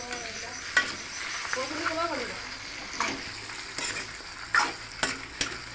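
Duck meat fries in a pan with bay leaf and is stirred, giving a steady close sizzle broken by scraping and clattering strokes, while a voice talks briefly early on.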